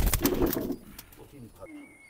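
A pair of Oman Teddy pigeons is released and cooing, opening with a burst of close fluttering and handling noise that settles into softer murmuring under a speaking voice.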